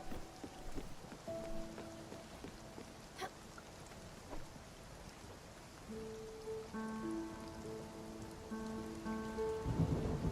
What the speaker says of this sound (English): Oh, now we're in the thunderstorm.